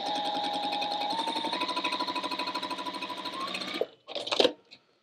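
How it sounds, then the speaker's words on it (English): A sewing machine stitches a quarter-inch seam on a braid quilt, running steadily and close for nearly four seconds before stopping, then giving a short final burst. "you're going to take this to the sewing machine and sew right along here with a quarter of an inch"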